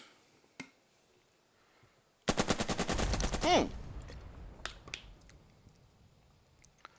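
Gunfire in the video game Burden of Command comes as a rapid burst of sharp shots, loud and close for about a second and a half, then fades into scattered faint clicks and pops.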